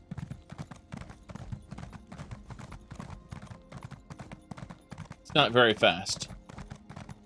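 Blood horse from Elder Scrolls Online trotting with steady, rhythmic clip-clop hooves throughout, a brief whinny near the end, and a voice talking over it.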